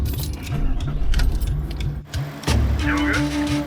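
A car strains and stalls while winching on an old telegraph track, its engine labouring at uneven revs under rattling and jangling noise, with a brief dip before the motor picks up again with a steady tone.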